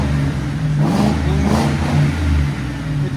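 A 2008 Ford Crown Victoria Police Interceptor with a 4.6L V8 and CARVEN TR-series mufflers revs gently, giving a deep, low exhaust rumble that swells twice and then settles, close and steady with no talk.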